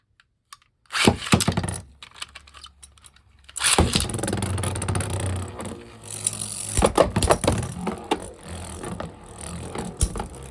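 Beyblade Metal Fight tops, including Diablo Nemesis X:D, spin and clash in a battle: a sharp launch, then dense metallic rattling and repeated cracking impacts.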